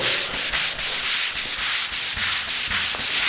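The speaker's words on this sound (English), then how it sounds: "Now you want to scrub it again before you wash it away." A stiff brush scrubs a concrete garage floor coated with oil eater cleaner, rhythmic back-and-forth rasping strokes about three per second, close and loud, with no talking.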